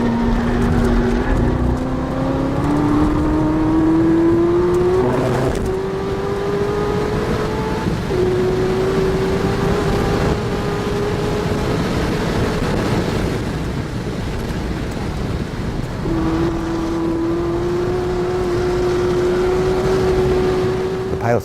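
Chevrolet Corvette ZR1 engine revving hard and climbing through gears on the Nürburgring circuit, a loud sustained roar with rising pitch sweeps and brief drops at gear shifts, close and continuous over wind noise.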